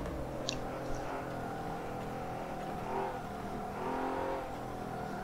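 Nissan GTR engine in Forza Motorsport at Lime Rock raceway, roaring steadily at high revs down the straight past the finish line, a continuous loud drone with slight pitch shifts and no talk.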